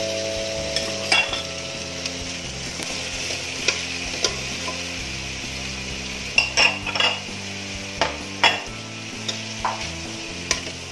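Leftover lechon manok being stirred in a pan with golden-browned garlic and onion, a steady sizzle and fry under repeated scrapes and sharp clinks of a utensil against the pan, close up with no talking.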